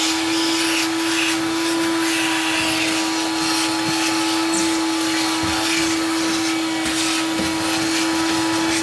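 A vacuum cleaner sucking dirt from the interior of an abandoned DeLorean, behind the removed back shelf: a loud, steady whine that runs close and unbroken throughout.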